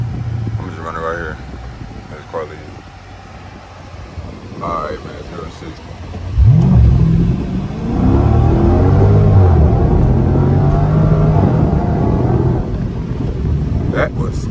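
A Dodge 392 Scat Pack accelerates hard from a standstill, 0-60, with traction control on. After a quiet stretch with talk, the engine bursts into a loud, rising roar and keeps pulling under heavy wind noise, heard from inside the car.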